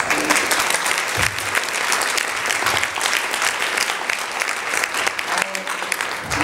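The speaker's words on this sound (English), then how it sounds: "Anne really deserves another big round of applause" A conference audience at a Dublin NGO report meeting gives Anne a big round of applause: dense, continuous clapping that stays loud from start to finish, with a few brief voices underneath.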